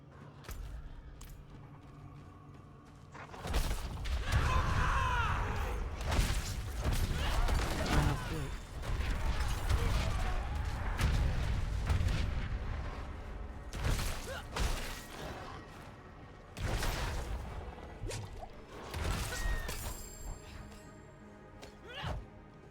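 A weapon sounds off during Diablo IV Barbarian play in a mix of heavy thuds, crashes and clanking impacts with mechanical rattles. The bursts come in loud, dense stretches separated by quieter gaps.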